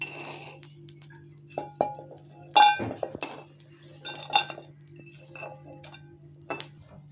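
Scattered metallic clinks and taps of utensils as roasted Bombay duck fish is transferred into a vessel, irregular and close, with quiet pauses between the sharper knocks.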